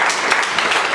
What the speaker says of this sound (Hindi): एक बार गौरव के लिए जोरदार ताली बजाइए भैया